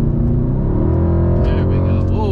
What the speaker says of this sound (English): let's see if I can get the engine to roar for you guys here